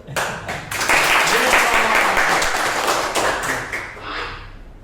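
An audience at a motivational talk breaks into applause, a dense burst of clapping that swells quickly, holds loud for a few seconds, then tapers off near the end.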